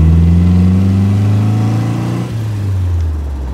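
A 1959 Triumph TR3 engine pulls in second gear, a loud, close steady drone with a strong low harmonic hum that dips in pitch partway through as the revs change.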